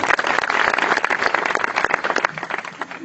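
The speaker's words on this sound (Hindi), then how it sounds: "एक बार जोरदार ताली हमारे लीडर्स को होना चाहिए।" Audience at a motivational speech event applauding its leaders, dense fast clapping from many hands, close and loud, with irregular peaks that gradually thin out toward the end.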